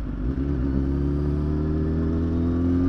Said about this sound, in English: I'll make a turn real quick so I can show you the exhaust I'm using and give you a listen